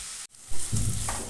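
Sliced onions with a little salt sautéing in a pan toward brown, a brief close sizzle broken by a stirring scrape, then frying noise building again, with no talk.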